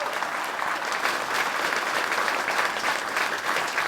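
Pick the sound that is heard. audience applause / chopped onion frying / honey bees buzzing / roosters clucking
audience applause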